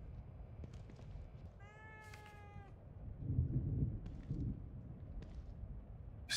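A cat lets out one drawn-out, rising meow in The Evil Within 2 horror game, fairly faint over a low rumbling ambience with scattered soft clicks.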